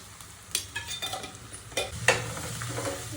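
Broad beans (chikkudukaya) stirred into a thin pot of tempering with crushed garlic and turmeric, giving a steady close sizzle with sharp scraping stirs and light clinks of the ladle, no talk.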